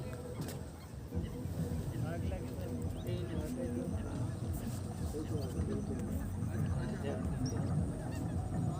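Near a pond with water hyacinth at an ecovillage, a dense chorus of honking, goose-like waterbird calls carries on continuously, with people talking throughout.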